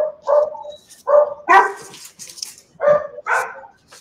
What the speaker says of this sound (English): They're barking at the FedEx.